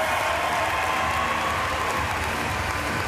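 Arena crowd at the Paris Paralympic para powerlifting women's up to 45 kg final applauding a lift, a loud, dense, sustained roar of clapping from a large audience.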